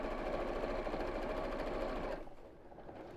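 A sewing machine runs in a steady, fast mechanical whir while stitching an invisible zipper onto a boxed cushion cover, close and clear, then stops abruptly near the end.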